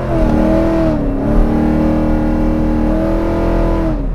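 A 2009 Pontiac G8 GT accelerates hard from low speed, its engine note rising loudly and steadily, dipping briefly at a shift and climbing again, heard close from inside the car without talk.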